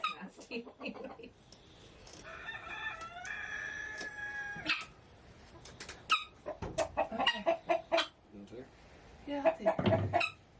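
A hen clucks in bursts in a garden setting, with rooster-like calls and other chickens nearby, while people talk over the birds.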